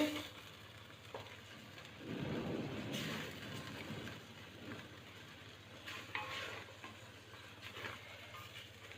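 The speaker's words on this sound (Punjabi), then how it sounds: "ਮਿੱਠੀ ਮਿੱਠੀ ਅੱਗ ਤੇ ਭੁੰਨਾਂਗੇ" Shahi paneer masala is stirred and roasted over low heat in a pan, giving a soft, steady sizzle with scraping strokes from the spoon, louder for a moment near the start.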